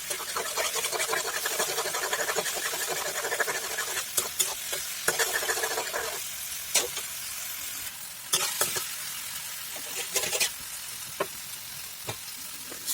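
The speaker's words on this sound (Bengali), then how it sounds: "মশলা দিয়ে ভালো করে টমেটো ভাজি করে নেব" Tomatoes fry with turmeric, chilli, cumin and meat masala in a pan for fish curry, giving a dense, continuous sizzle up close, broken by sharp scraping stirs of a utensil against the pan; no one speaks.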